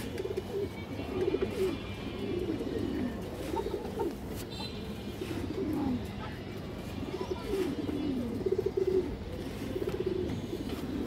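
Pigeons for sale, with dark-throated and silver types among them, coo repeatedly in soft, rolling phrases at a moderate distance, with faint background noise throughout.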